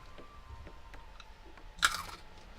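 One sharp crunch of teeth biting into mint berry crunch cereal, close up and brief, with faint chewing around it.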